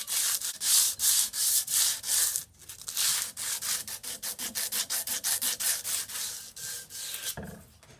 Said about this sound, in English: we've got this scraped down to a level where it's ready to sand